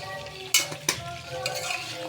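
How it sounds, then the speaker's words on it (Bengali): Chicken kosha seasoned with garam masala and chicken masala sizzles softly in a pan while a utensil stirs it, giving two sharp scraping clinks against the metal over a low, steady frying hiss. "হালকা করে একটু নেড়ে নেবো।"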